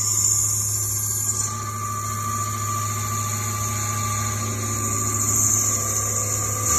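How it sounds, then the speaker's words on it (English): A lathe cutting down a VEX gear, giving a steady, close mechanical whine with a high-pitched ring and a constant low motor hum throughout, with no talking. "just start the lathe and then get cutting"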